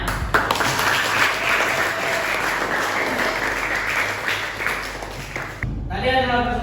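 A classroom audience applauds a group's presentation at an Islamic university: loud, steady clapping from many hands that fills most of the stretch, then stops abruptly before a brief different tonal sound at the very end.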